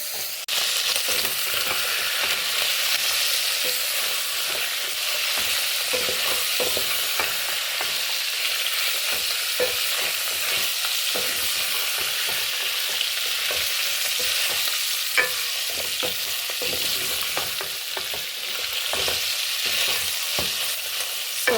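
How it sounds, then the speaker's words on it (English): Beef sizzling steadily in hot oil as part of a countryside beef stew, with frequent scraping and stirring strokes throughout; loud, close and continuous, no voices. "we are going to fry it with this oil until it gets a little bit brown"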